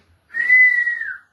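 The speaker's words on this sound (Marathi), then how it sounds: "म्हणजे हवा सोडून वाजवायची शिट्टी" A single steady mouth whistle blown by pushing air out holds one clear pitch for about a second, with a slight downward slide at the end. It is close and alone, with no talking.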